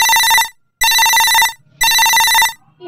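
A mobile phone ringtone plays in a village home, three loud, repeated melodic bursts separated by short gaps, with no talk over it.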